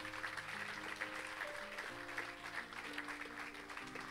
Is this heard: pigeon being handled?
no